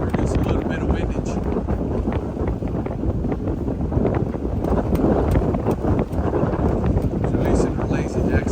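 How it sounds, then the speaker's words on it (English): A strong gale blows over a sailboat anchored off the Channel Islands, with steady, loud, buffeting wind roar and gusts hitting the microphone, and indistinct voices partly buried beneath it. "We're out here in this gale."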